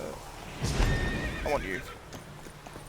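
A horse in The Witcher 3 whinnies and neighs close by, with the knock of hooves clopping over the ground as a voice speaks over it.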